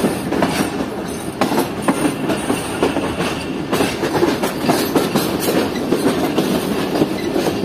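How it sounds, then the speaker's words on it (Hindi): Train coaches rolling past at a Pakistani railway station, loud, close and continuous, with rhythmic clickety-clack of wheels over rail joints and a faint metallic squeal. "ये पता नहीं कौन सी ट्रेन है, देखते हैं कहीं नाम लिखा होता है।"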